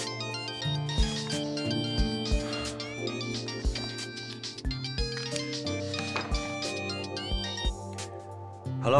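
A telephone ringtone plays a bright, repeating electronic melody of steady tones for several seconds, fairly clear and with no talking over it.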